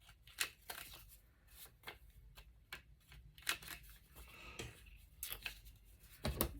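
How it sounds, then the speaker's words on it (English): Quiet crisp snipping and rasping scrapes, irregular and close, like scissors roughing up the edges of paper, with soft rustling between cuts. "Taking my scissors just a little bit, just to rough it up just a little"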